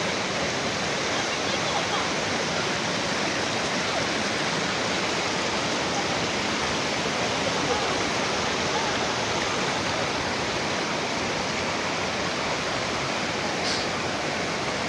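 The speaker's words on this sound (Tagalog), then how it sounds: "ang ganda ng falls" Infanta Falls pours in a steady, loud broadband rush of falling water, unbroken from start to finish, with voices talking faintly over the roar.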